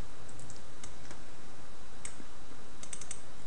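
A file name is typed on a computer keyboard, with sparse, crisp key taps that come in a few quick clusters over a constant background hiss and no speech.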